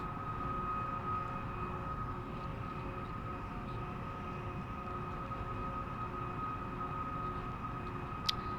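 An Airbus A340 taxiing in a flight simulator game produces a constant droning engine hum with a steady tonal whine, even in loudness throughout, with one brief click near the end and no speech.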